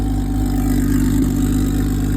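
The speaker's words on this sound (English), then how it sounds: "idling, getting warm" A Camaro race car engine idles while warming up, a loud, deep, steady rumble heard up close with no voices over it.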